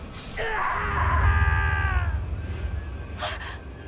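A drawn-out, wavering scream from a character in the video game Tales of Berseria rises and falls over about two seconds, followed by a short breathy gasp, heard close and moderately loud.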